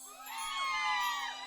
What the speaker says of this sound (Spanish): Chicas, un grito.